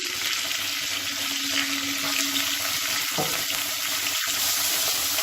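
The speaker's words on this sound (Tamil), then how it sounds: "காய்கறியை ஒரு 2 நிமிஷம் வதக்கி விட்டுக்கலாம்" Finely chopped beans, potato, peas and carrot sauté in a pan with a dense, constant sizzle and occasional stirring scrapes close by.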